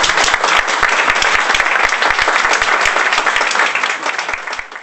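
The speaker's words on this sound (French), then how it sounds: "C'est souvent l'applaudissement, mesdames et messieurs" Sustained applause from an audience filling a hall, dense and loud with many sharp individual claps, steady throughout before easing slightly at the end.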